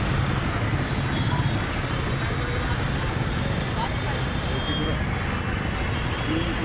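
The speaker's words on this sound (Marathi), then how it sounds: "आज भरपूर ट्रॅफिक आहे मित्रांनो" Heavy jammed traffic in Pune fills the air with a dense, unbroken roar of engines and road noise, steady and close throughout, with someone talking over it.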